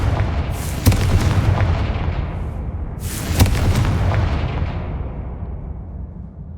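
Confringo fire-blast spells explode in Hogwarts Legacy as a loud, continuous barrage of booming blasts and crackling bursts, with two sharper impacts standing out amid the rumbling din.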